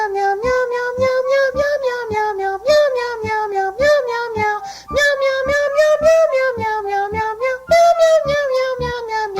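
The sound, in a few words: cat meowing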